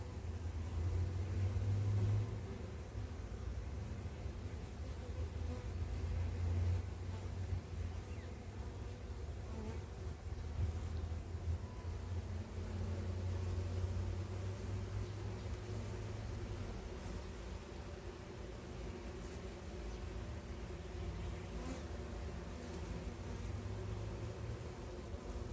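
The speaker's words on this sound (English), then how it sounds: "just enjoy the bees for now, and I'll just leave this running for a bit" Honeybees drone steadily around an open hive during a late-summer inspection, a dense, continuous low buzz at close range that persists for the whole stretch without any talking.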